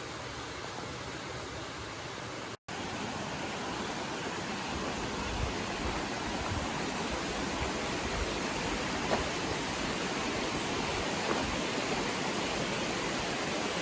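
Forney Creek, a mountain stream in Great Smoky Mountains National Park where Bear Creek joins it, rushes steadily and evenly, filling the scene with a close, continuous broadband wash of water and no voices.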